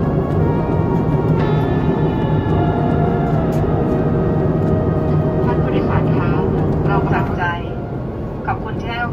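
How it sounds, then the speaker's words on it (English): A Thai Airways airliner lands at Arlanda airport, heard from inside the cabin as a loud, steady engine roar with droning tones that shifts and eases slightly near the end. Cabin announcements or talk occur over it. "Now please enjoy this landing into Arlanda."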